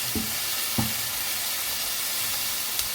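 Tomato, onion and garlic sautéing in a pan: a steady, close sizzle and hiss throughout, broken by a few sharp clinks of stirring utensils.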